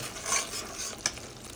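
Tomato masala with green chilies frying, a short burst of dense close sizzling with a sharp utensil tap partway through.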